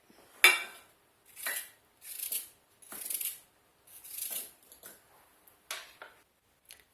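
A knife cuts apple quarters on a board for a rustic apple tart, giving about eight separate crisp chopping taps at an uneven pace, close and clear in an otherwise quiet kitchen.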